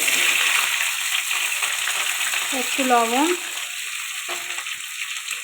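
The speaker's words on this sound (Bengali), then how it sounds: "ওই তেলে বিন কড়াইটা ভেজে নেব।" Green beans fry in hot oil in a kadai with a loud, steady close sizzle as someone speaks briefly over it.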